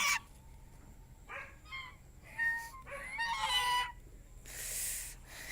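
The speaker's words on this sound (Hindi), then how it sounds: "मेरे से तीतर आवाज़ कर रहे हैं।" Partridges at a bird hospital giving a run of loud, harsh, repeated calls close by, in several bursts over a quiet background.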